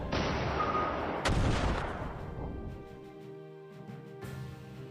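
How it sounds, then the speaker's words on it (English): Incoming missiles in a video game hit with a loud, deep double blast, a sharp second impact arriving about a second after the first, then fading into a low rumble and a sustained tone. "So these are their missiles coming in."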